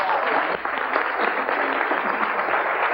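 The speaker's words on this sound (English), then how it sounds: "these guys deserve a round of applause" Studio audience applause on a daytime talk show, a dense, steady wash of clapping filling the whole stretch at close, loud level with no pauses.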